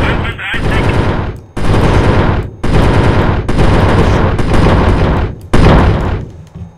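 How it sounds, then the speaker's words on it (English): Machine-gun fire aimed at cars in the IL-2 flight-sim video game, loud sustained bursts of rapid shots separated by short gaps, close and heavy. "It's gonna shoot at the first car."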